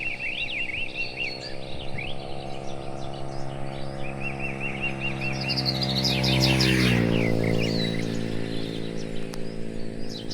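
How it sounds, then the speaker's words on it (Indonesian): Small birds chirp and trill in quick repeated phrases over countryside rice fields during a morning walk, with several calls overlapping above a steady low hum. "kicauan burung menciptakan suasana yang menenangkan"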